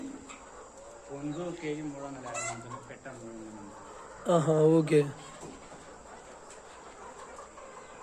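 Country chickens, roosters and hens, on a farm clucking and squawking in short bursts, with a louder flurry of calls midway, under and between a couple of brief spoken remarks.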